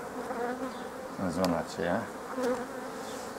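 Honey bees buzz close around hive frames, the droning hum swelling in short bursts over a quiet voice speaking in the background.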